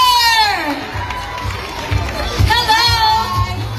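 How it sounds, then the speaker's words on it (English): Crowd at a hosted Nesfruta event cheering, shouting and clapping, with children's high voices prominent; a steady, dense roar of excited voices runs throughout, with a host's voice also audible. "Let us all give a big round of applause to Team Kramer!"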